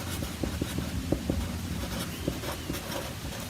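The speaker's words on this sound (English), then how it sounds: "So let's just write that down." Pen writing on post-it notes, giving quiet scratchy strokes and small taps in an uneven rhythm, close and faint over a low steady room hum.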